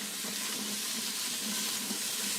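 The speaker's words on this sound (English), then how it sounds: "So I'm gonna give this a stir." Onion, celery and carrots sizzle steadily in an Instant Pot on sauté while being stirred, a continuous close frying hiss with soft scraping and no talk.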